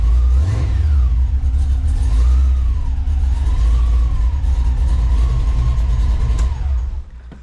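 A Fox Body Ford Mustang engine idles with a low rumble, then revs up and down in several swells before settling and quieting at the end.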